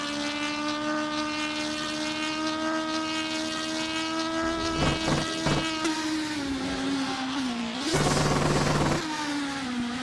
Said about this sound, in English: Almost over revving downshifts, trying to get as much compression to help him slow down.